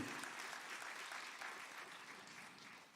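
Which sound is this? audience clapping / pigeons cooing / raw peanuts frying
audience clapping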